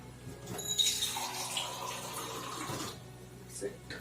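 Water pours from a tap into a pan while making homemade sweet chili sauce, a soft steady splashing stream lasting a few seconds, faint and close.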